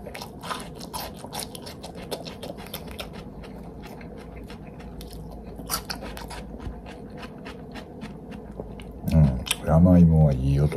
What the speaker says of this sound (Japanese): あのシャクシャクの山芋の ASMR はいけるなぁと思いましたね。